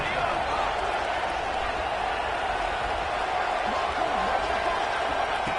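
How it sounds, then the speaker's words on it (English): Steady stadium crowd roar swelling behind a red zone defensive stand in an Arkansas college football video game, a continuous even wash of noise throughout with what sounds like talk mixed in. "And here comes the noise. This crowd is trying to inspire this defense to make a big red zone stop."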